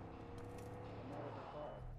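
Loud car engine in the video game Far Cry 5, a steady droning rumble that holds throughout at close range, with voices faintly present.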